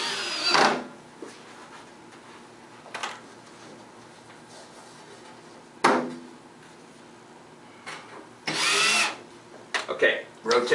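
A power screw gun drives screws into an AP-80 during assembly, in several short, sharp whirring bursts separated by quiet gaps, close and loud.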